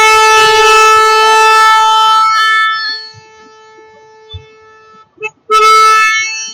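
Loud, sustained horn blasts ring out in Mumbai traffic, one long tone fading, then shorter honks and a final strong blast, close by and without speech.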